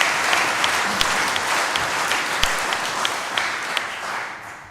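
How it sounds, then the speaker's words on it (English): Audience applause fills a hall at the 2024 Halesworth climate action conference on land, food and farming: dense, steady clapping from a large crowd, sustained throughout with a few sharper individual claps standing out. "Should we have a round of applause again?"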